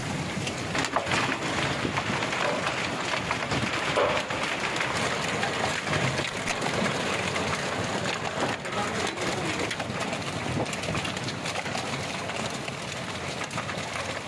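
Heavy rain falling steadily in Haridwar or Rohtak during a hailstorm, a dense, even hiss that stays loud and unbroken throughout, with no pauses.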